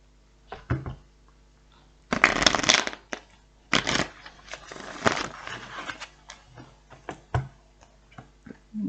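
Tarot cards being shuffled by hand in several separate bursts of riffling and sliding, close and fairly loud, with quiet gaps and small taps in between.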